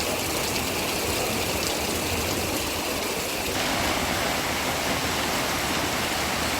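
Heavy rain and floodwater in Hyderabad make a loud, steady rushing wash with no letup, and no voices are heard.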